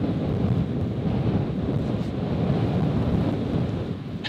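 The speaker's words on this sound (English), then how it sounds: "And here comes the wind." Strong wind buffets the microphone across a rainy landscape, a loud continuous low rumble with gusting swells and no talking.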